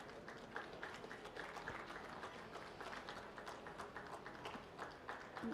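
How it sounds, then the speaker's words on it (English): Spectators at a dairy goat show give a junior showman a round of applause, a soft, steady patter of clapping from a modest crowd, quiet and somewhat distant. "Let's give our junior showman a round of applause."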